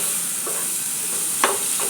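Mango pieces fry in hot oil in a wok and get stirred, giving a steady close sizzle with a few soft scraping strokes of the spoon.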